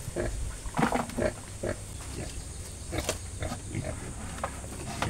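Farm pigs grunt and oink up close in a pen, several animals giving rough, overlapping snorts and grunts above low background noise, with a person speaking faintly.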